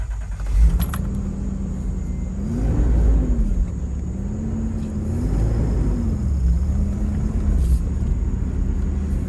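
A 1989 Toyota Tacoma SR5 4x4 pickup with a 3.0 V6 fires up and settles into a steady idle, a low continuous engine rumble with a couple of gentle rises in revs, heard close and alone.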